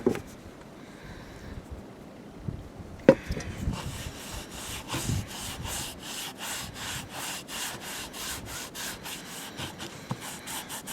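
Oil rubbed by hand onto a small handmade wooden piece, a steady back-and-forth rubbing with rhythmic strokes after a brief quiet start and a sharp knock, close and moderately loud with no talking.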